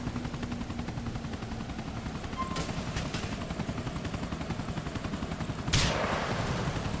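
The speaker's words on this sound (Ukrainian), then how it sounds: "Позбався від гелікоптера." Steady helicopter rotor drone in the video game GTA 4, continuous and close, with a couple of sharp gunshot cracks cutting through near the middle and end, and no talking.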